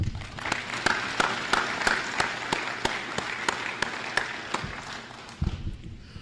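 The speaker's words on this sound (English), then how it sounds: "Let's give these guests a round of applause." Audience applause for guests at a school Veteran's Day program, a room of steady clapping with some sharp individual claps standing out, holding fairly even before thinning near the end.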